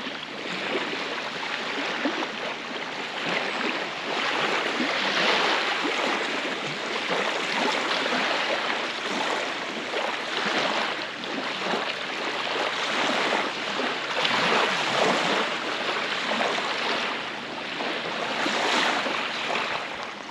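Waves wash steadily onto the sandy shore of Lake Superior, a continuous loud rushing surf with gentle swells rising and falling, heard alone without talk.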